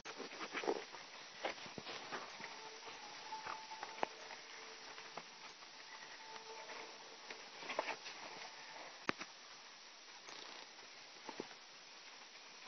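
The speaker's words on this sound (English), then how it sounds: "It's raining outside." Rain falls outside a house garden with avocado, corn and tomato plants, making a steady, soft, faint patter with scattered small drips and taps.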